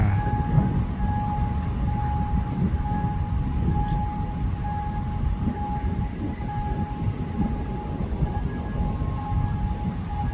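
A freight train hauled by a locomotive rolls past a level crossing with its barrier down, giving a continuous close rumble of wagons. A steady warning bell tone rings over it throughout.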